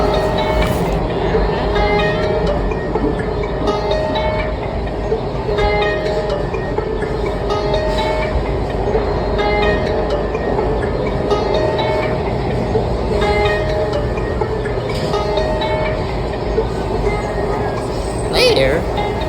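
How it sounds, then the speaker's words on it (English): A metro train speeds into an underground tunnel, its steady loud rumble and rail roar continuing throughout with a brief squeal near the end, while someone talks over it. "The train speeds into the tunnel going underground."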